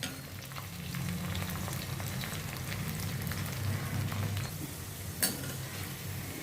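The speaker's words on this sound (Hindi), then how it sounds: "इनको पहले मैं हाफ फ्राई करूँगी, फिर सेकंड टाइम फिर मैं इनको फ्राई करूँगी" Potato finger fries half-frying in hot oil, cooked the first time of two for crispness, give a steady, moderately loud crackling sizzle with occasional stirring clinks and one sharp tap near the end.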